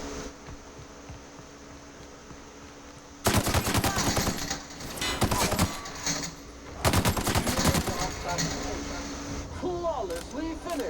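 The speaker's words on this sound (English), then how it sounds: "Assault Rifle Ultra" Assault Rifle Ultra in The Outer Worlds firing in two long rapid automatic bursts, loud and close, with a short gap between them and brief mechanical clatter afterward.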